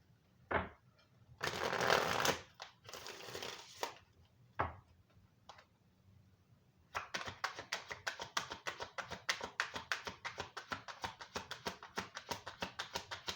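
Stargazing Oracle cards are shuffled close by, first in two soft, rushing bursts with a few light taps, then in a long run of quick, crisp riffling clicks.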